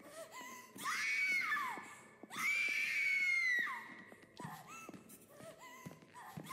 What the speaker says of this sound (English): I've got to end this screaming.